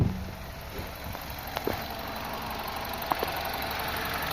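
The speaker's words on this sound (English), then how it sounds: "Engine runs okay." A BMW E46 under restoration, fresh from a timing chain replacement, idles with a faint, steady low hum and no voices.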